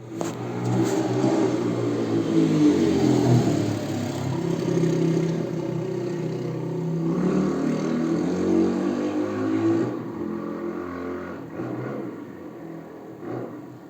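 Motorbikes rev up and tear away in a dramatic story sound effect, a loud sustained engine roar with rising and falling revs across the whole stretch, easing off toward the end.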